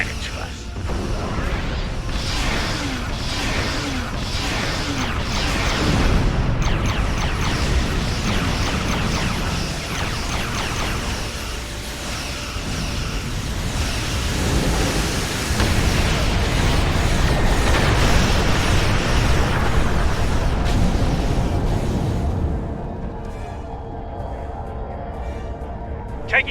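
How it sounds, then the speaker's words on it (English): Heavy weapon fire and explosions pound a ship in a video game, a dense, loud, continuous barrage of booms and rumbling bursts that thins out near the end. "Taking some heavy fire here, Ziva."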